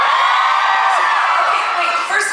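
A concert audience at a show screaming and cheering, a dense, sustained wall of high-pitched shrieks and whoops that fills the hall without a break, loud and unbroken.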